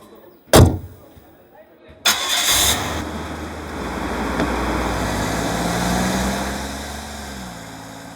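A car in a Hindi-dubbed horror film: a sharp click, a pause, then the engine cranks and catches into a steady, loud idle that rumbles on to the end.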